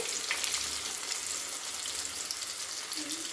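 Chicken pieces fry in hot oil for homemade broasted chicken, giving a steady, dense sizzle with crackling throughout and no break.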